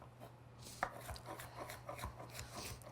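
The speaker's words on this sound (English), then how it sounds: "So I've diced this guy up for my Asian salsa or chutney" A knife dicing cucumber on a board, with a string of soft, irregular chopping taps close by, quiet and without speech.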